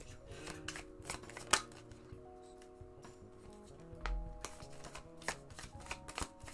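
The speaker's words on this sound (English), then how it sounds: "I gotta finish the entire shuffle." Tarot cards being shuffled by hand, a steady run of soft riffling and slapping with a few sharper snaps, close and fairly quiet, with no voices.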